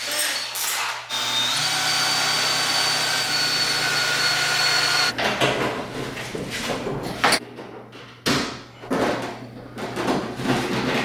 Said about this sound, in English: I think we need to start drilling those fucking clips right there